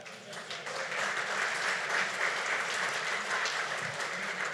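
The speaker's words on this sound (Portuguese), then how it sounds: "Pode dar uma salva de palmas para ele." A church conference crowd claps in a broad, steady wash of applause, fairly distant and even in loudness throughout.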